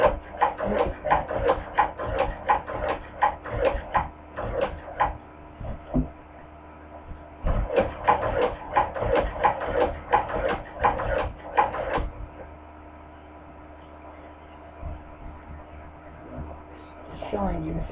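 A hand crank cobbler sewing machine stitching smoothly, with bursts of rapid rhythmic needle clatter that pause and resume, fairly close and moderately loud over a steady low hum.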